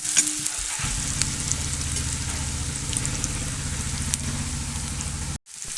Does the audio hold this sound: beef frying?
yes